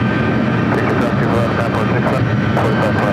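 A plane takes off at LAX airport, its engines giving a broad, steady roar that stays loud and sustained, with someone talking over it.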